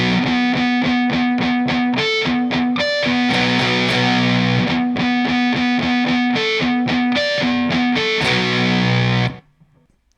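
Heavily distorted electric guitar plays a riff alone, with rapid palm-muted chugs broken by short ringing chords, loud and close, stopping abruptly near the end.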